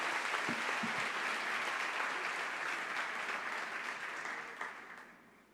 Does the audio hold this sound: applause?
yes